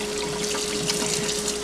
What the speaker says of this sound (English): And I'm going to rinse it really super well.